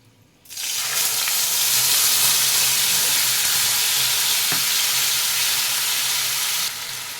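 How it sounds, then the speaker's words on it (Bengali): Onion paste hitting hot oil in a pan, already holding a dried red chilli, for a Bengali doi katla fish curry, sets off a loud sudden sizzle that stays dense and steady up close for several seconds. "পেঁয়াজ বাটাটাকেও ভালো করে ভেজে নেব।"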